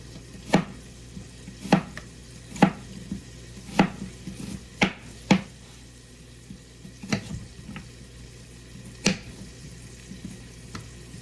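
Knife slicing through food on a cutting board for beer-braised grilled bratwurst: about a dozen crisp, fairly loud cuts at uneven intervals, close by, over a low constant background hum.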